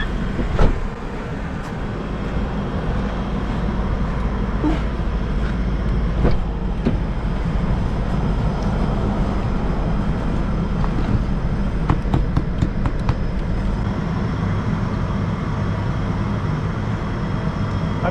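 A 2003 Mercedes S500 AMG with a limp-home mode fault drives along, giving a steady low engine and road rumble with cabin noise and a few faint clicks and knocks throughout.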